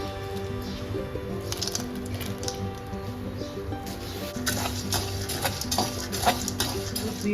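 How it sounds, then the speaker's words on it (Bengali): Bean seeds roast in hot salt in a pan, stirred continuously with a utensil that grates and scrapes against the pan, quiet and close over a low steady background hum. "নুনটাকে ভালোভাবে গরম করলাম করে এবার শিমের বিচিগুলো এখানে ভেজে নেব"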